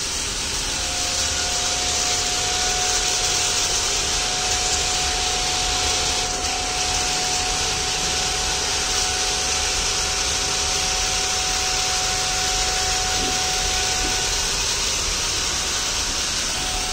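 A solar-powered floor-cleaning robot's vacuum motor whirs at a steady pitch, a continuous loud drone with a faint tonal hum and no talking.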